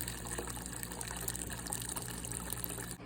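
A professional carpet cleaning extraction machine draws dirty water out of carpet with a loud, steady gushing and sucking roar and an even motor drone throughout, without speech.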